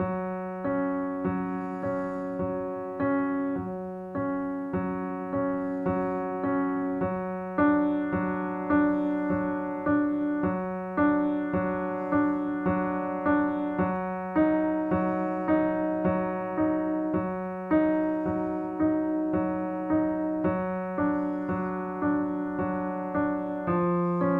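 A piano plays a steady, flowing chord progression at an even tempo, with sustained bass notes and repeated chords continuing without pause.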